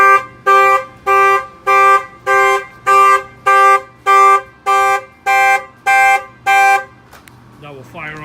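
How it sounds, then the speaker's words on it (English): An upgraded alarm on a Mercedes-Benz G550 blares in eleven loud, evenly spaced horn blasts, each about half a second long with short gaps, before stopping abruptly; a faint chirp follows at the end. "that will fire off the alarm."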